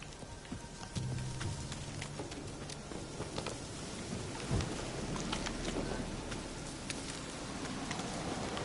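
Rain pours steadily in the video game Witcher 3 while deep thunder rumbles and cracks overhead, one sharp clap standing out midway, all without voices.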